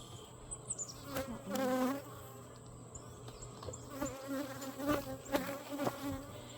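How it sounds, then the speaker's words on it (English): Honey bees swarm around an opened backyard hive, a close, dense buzzing that rises and falls as individual insects zip past the microphone, with no talking over it. "They're buzzing me pretty good that I'm annoying them"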